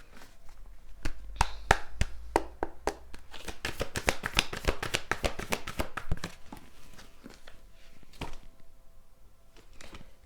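Tarot cards being shuffled by hand, a dense run of crisp riffling taps and slaps that speeds up mid-way and then thins out, close and fairly quiet.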